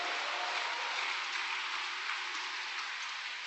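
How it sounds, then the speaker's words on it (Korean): An audience at a vigil prayer gathering applauds, a dense steady wash of clapping held evenly from start to finish, with no voices on top. "큰 감사와 따뜻한 격려의 박수를 보내주시기 바랍니다."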